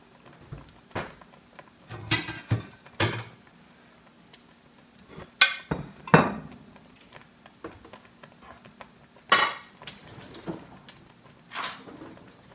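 Beef and spinach stir-fry is stirred in a pan, with scattered scraping strokes and clinks of plates being handled, arriving in separate short bursts with quiet gaps between.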